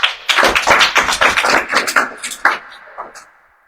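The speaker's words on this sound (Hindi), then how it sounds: "बच्चों के लिए जोरदार तालियां" An audience at an annual church Christmas program claps loudly for the children, a dense burst of many hands that thins out and fades after about three seconds.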